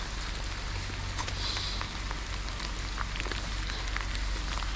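Heavy rain pouring at South Queensferry, heard as a steady dense hiss of drops hitting surfaces, with scattered sharper patters over a low background rumble, continuous and moderately loud.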